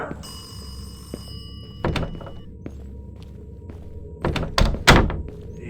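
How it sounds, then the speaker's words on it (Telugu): A synthetic phone ring from the horror video game Kamla repeats in the background at the start, then fades out under thuds and knocks. "ఫోన్ అవుతుందిరా నాయన"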